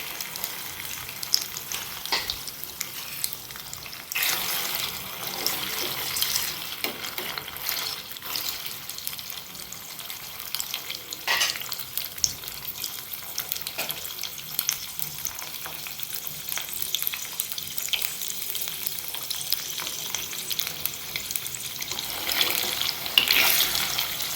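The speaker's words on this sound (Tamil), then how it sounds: "எண்ணெய் காஞ்சோடனே இது பன்னீர் போட்டு நல்லா ப்ரௌன் கலரில் பொரிச்சு எடுத்துக்கோங்க" Paneer pieces frying in hot oil until browned, a steady crackling sizzle with occasional stirring clinks, alone with no talk.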